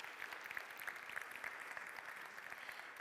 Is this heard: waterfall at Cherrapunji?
no